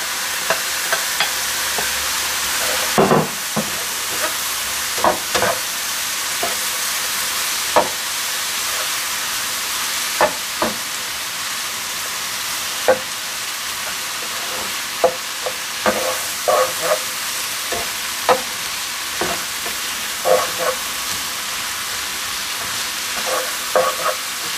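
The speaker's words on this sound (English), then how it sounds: "Add the bacon back to the mushrooms." Bacon and mushrooms frying in a pan, a constant bright sizzle with repeated sharp scrapes and knocks of a stirring utensil at irregular intervals, close and sustained.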